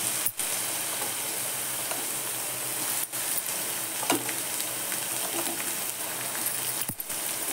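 Green chilies hitting a hot pan, giving a continuous, fairly quiet sizzle and frying crackle with a few sharp clinks and stirring scrapes along the way.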